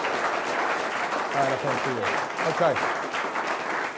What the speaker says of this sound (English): A round of applause for both of them, please.